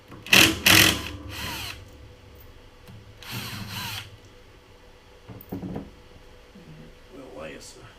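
A power driver spins out T30 Torx screws from a CP3 fuel pump in a few short, loud whirring bursts with pauses between, someone talking quietly in the gaps.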